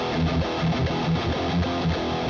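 Fuzz distortion from a BIAS X guitar amp modeler, the fuzz dialed back and the level slightly raised, plays as a steady, dense distorted riff with rhythmic chord pulses throughout, alone and with no talk.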